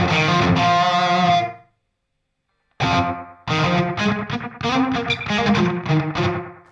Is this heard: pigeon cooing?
no